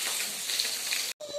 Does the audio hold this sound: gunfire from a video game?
no